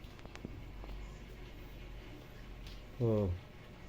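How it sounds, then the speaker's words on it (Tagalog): A pet cat gives a single short meow near the end, fairly close and loud against quiet indoor background noise. "Tingnan yung pusa namin."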